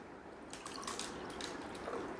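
Plain water is poured into a glass of oil, making soft splashing and dripping with a few light liquid plinks, close by but quiet, with no talking.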